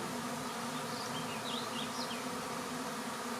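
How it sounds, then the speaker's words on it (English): A swarm of honey bees hums around a hive in May, a dense continuous buzz filling the air at moderate level, with individual bees droning past nearby and no voices. "It's a lot of bees."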